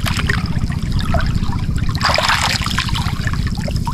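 River current flowing with a steady rushing, trickling wash of water, loud and continuous at close range, with no voices.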